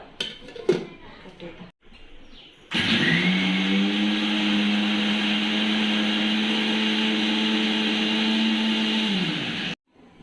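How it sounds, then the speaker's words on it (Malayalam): A kitchen mixer grinder whirs steadily for about seven seconds, grinding hair pack ingredients with a little water into a paste. It starts abruptly after some brief handling noises and stops sharply, with a loud, even motor hum and no speech. "ഒരു മിക്സിയുടെ ജാർ എടുത്തിട്ട് നമുക്കെല്ലാം അരച്ച് കുഴമ്പ് രൂപത്തിൽ അരച്ചെടുക്കാം"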